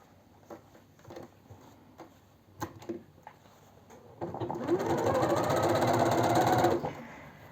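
A sewing machine stitches tweed trousers with lining, first in a few hesitant clicks and short bursts, then running in a steady, close mechanical whir for about three seconds before stopping.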